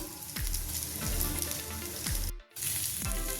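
Boiled chopped potatoes go into a sizzling pan, a steady close frying hiss with soft repeated thuds and scrapes of a spoon, briefly dropping out before resuming.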